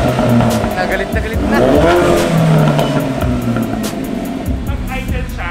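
Car engine in a loud modified setup revving hard nearby, rising and falling throttle blips with a rough, aggressive tone, while people talk over it.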